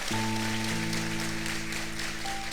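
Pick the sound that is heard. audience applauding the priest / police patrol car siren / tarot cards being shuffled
audience applauding the priest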